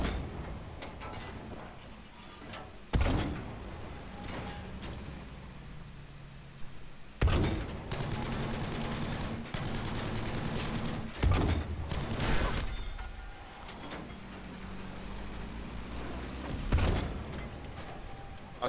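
Gunfire in the Battlefield V video game sounds as a handful of sharp shots at irregular intervals over a busy background of game noise, moderately loud, with no talk.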